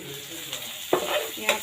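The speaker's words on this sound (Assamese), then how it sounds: "এতিয়া পটলখিনি দি কেনে অলপ ভাজি থাকিম" Pointed gourd pieces sizzle in a hot pan with fried onions while a utensil stirs them, giving a steady close fry with a few sharp scraping strokes.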